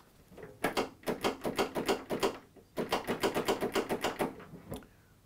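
Starter solenoid on an abandoned lawn mower under repair, clicking in two rapid bursts of repeated sharp clicks, close and fairly loud, followed by a single later click.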